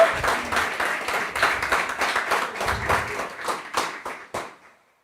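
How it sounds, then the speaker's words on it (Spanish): Steady applause from a church congregation, dense overlapping claps for about four seconds before tapering off and fading out. "por eso le podemos dar un aplauso a Dios"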